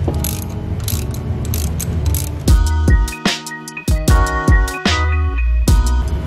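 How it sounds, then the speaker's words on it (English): A ratchet tightens the intercooler pipe on a Nissan Titan XD after an EGR delete, giving a run of close mechanical clicks and rattles. Strong tonal sound takes over partway through. "So we're gonna go in and tighten that intercooler pipe back up"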